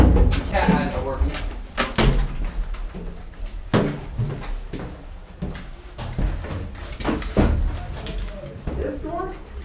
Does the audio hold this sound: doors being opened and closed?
yes